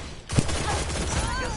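Sidearm fire in Destiny, a quick run of rapid shots that starts abruptly after a brief lull and rattles on, close and fairly loud.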